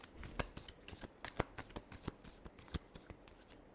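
Tarot cards being shuffled by hand, a rapid run of soft riffling flicks and snaps, close and quiet, with no voice.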